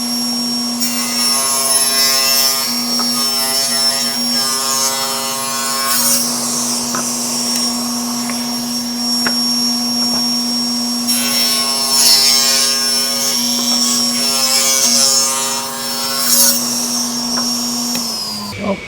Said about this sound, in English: we're going to go ahead and cut off a 1/2 inch strip on each side